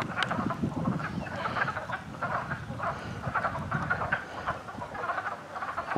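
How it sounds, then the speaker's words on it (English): Mating frogs fill a small pond with a steady, rhythmic chorus of croaking pulses, loud and near, repeating in waves without any voices. "The frogs are mating."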